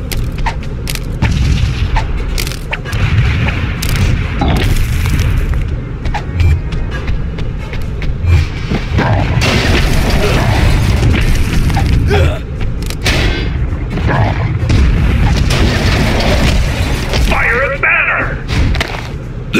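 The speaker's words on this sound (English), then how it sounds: "Can you dodge grenades?" Grenades explode during a boss fight in a Hulk video game, loud booms and thuds buried in a dense, continuous wash of game noise and action.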